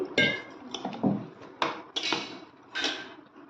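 Tamarind leaves being washed in a metal vessel produce irregular clinks and clatters of the pot with sloshing water, close by and without talk.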